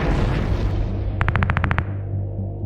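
A deep, heavy rumbling boom of cannon fire in the 1945 battle of Surabaya, with a rapid series of sharp metallic clicks partway through.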